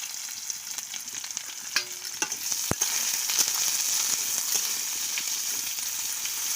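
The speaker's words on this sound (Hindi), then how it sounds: "पियाज को आम हल्का लाल है पर्यंत भाजवा।" Onions sizzle and fry steadily in hot mustard-seeded oil, a continuous near crackle with faint stirring clicks and one sharp tap partway through.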